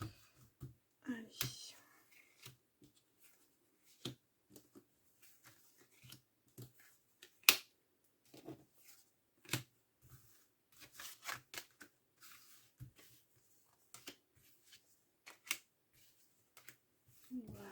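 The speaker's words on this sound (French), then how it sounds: "je positionne les cartes" Oracle cards are laid out on a table in soft, scattered slaps and shuffles, each placement a brief close tap amid quiet pauses, with faint speech now and then.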